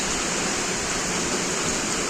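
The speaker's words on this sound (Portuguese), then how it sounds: "Já tem uns 15 minutos que tá chovendo." Rain falls on a rural farm during a morning downpour, a steady, even hiss of water with no breaks or voices.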